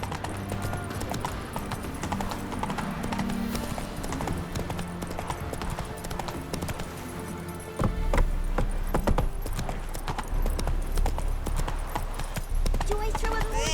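Roach the horse trotting in The Witcher 3, a steady rhythmic clip-clop of hooves over a dense game soundscape of music and ambience, with a heavier rumble joining partway through and voices speaking.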